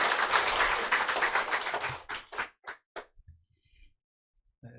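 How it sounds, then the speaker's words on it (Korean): A church congregation gives a young member a hearty welcoming round of applause: about two seconds of dense clapping, then a few last scattered claps trail off into near silence. "그대로 일어서 주시면 큰 박수로 환영하도록 하겠습니다"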